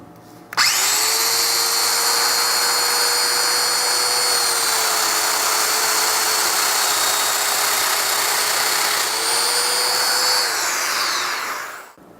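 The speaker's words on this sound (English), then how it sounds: "I'll take these apart and use the domino to go ahead and cut them" A domino joiner cuts mortises into a wooden rail for a chest of drawers, a loud steady motor whine that switches on abruptly, holds with a slight pitch shift during the plunge, then spins down.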